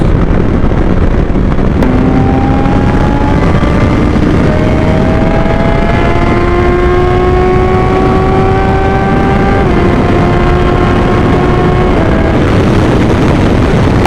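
A BMW S1000 XR motorcycle holds about 3,000 RPM, its smooth engine drone slowly rising in pitch beneath heavy, constant wind roar.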